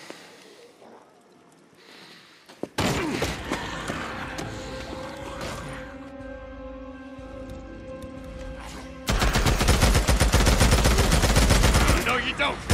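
Sustained automatic gunfire in the action game Days Gone, a loud, rapid, unbroken rattle of shots close by in the final seconds, following quieter ambience, a sudden impact and a stretch with a voice and music.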